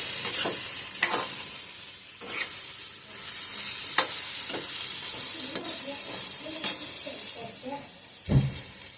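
Eggplant bhaji with salt being stirred in a pan, a continuous bright sizzle with repeated scraping strokes of a spoon and a few sharper knocks against the pan.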